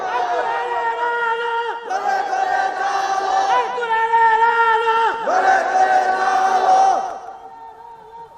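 A mosque-style waz mahfil crowd in Bangladesh answers a preacher with a loud, unified takbir chant. Three long sustained shouts of many voices ring out in succession, each swelling and then fading before the next, and the hall goes quiet at the end.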